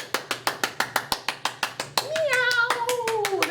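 Steady hand clapping from a children's preschool storytime, about a dozen crisp even claps in a quick rhythm, close and loud, then a voice breaks into a sustained cat-like meow imitation.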